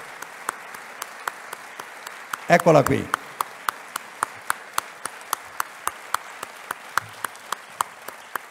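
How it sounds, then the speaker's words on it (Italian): An audience applauds at a tribute event in Belluno for a former Luxottica factory worker, sparse rhythmic claps ringing in a large hall, with a brief voice speaking partway through. "A lei io chiedo un applauso"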